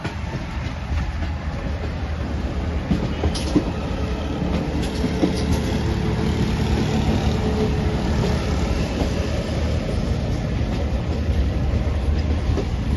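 A Green Line Express passenger train rolls steadily along the rails near a diverted junction, a loud continuous rumble with rhythmic clickety-clack of wheels over joints, heard from close by with no talking.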